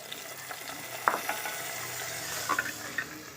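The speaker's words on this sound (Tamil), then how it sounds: "கடுகு தாளித்து விட்டுறலாம் கடுகு அது கூட கொஞ்சம் பெருங்காயம் போட்டிருக்கேன்" Mustard seeds and asafoetida crackle and sizzle in hot oil for tempering, a steady frying hiss broken by several sharp pops and spits, close and fairly quiet.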